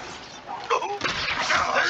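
A Bombarda blasting spell goes off in Hogwarts Legacy. A short burst is followed by a booming explosion that rumbles on at steady loudness, mixed with voices and battle shouts.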